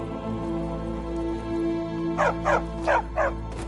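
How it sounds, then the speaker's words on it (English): A dog in a video-game world gives four quick barks in a close burst near the end, following a steady low background hum. "Stupid dog."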